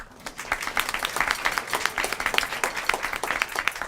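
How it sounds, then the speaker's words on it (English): A crowd applauds the community band at an indoor community-center concert, giving steady, dense clapping throughout. "Let's give them a round of applause, folks."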